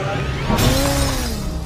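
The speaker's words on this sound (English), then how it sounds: "Break the glass." Glass breaking and shattering in the game Maze Runner: The Death Cure, a sudden bright crash followed by a scattering tinkle of shards under a steady game background, fairly loud and close.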